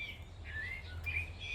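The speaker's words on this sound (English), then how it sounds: "Actually it sounds like skylark." A skylark sings on a farm in thin, high, warbling whistled phrases, steady and moderately near, over a low constant rumble in the background.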